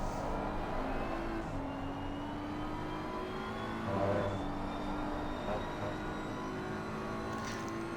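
BMW M4 GT3 race car engine lapping Paul Ricard in a racing game, a steady high-revving drone held flat out through a left-hander and onto the long Mistral straight, with rising pitch and no speech.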